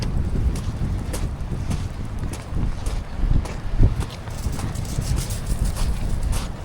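Wind during a heavy rain storm at a van camp, heard as a steady low rumble and buffeting against the microphone that swells and eases in gusts.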